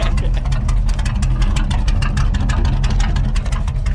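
A homebrewed 454 V8 in a five-speed Corvette rumbles steadily at close range, a deep continuous idle with a loud low throb and no speech.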